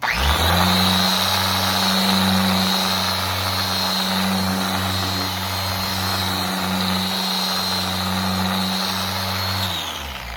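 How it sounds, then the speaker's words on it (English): A palm sander fitted with a cutting pad buffs car paint with heavy duty cutting cream, producing a steady, loud motor whine and hum that holds for about ten seconds before winding down, with no talk. "I thought I would be able to get it out with the palm sander cutting pad and some heavy duty cutting cream"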